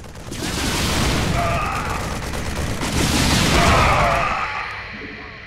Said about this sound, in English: It fires a volley of rockets at enemy ground targets.